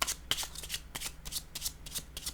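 Tarot cards being shuffled for a card reading, a close, crisp run of riffling and flicking bursts repeating at a brisk uneven pace, with no talking.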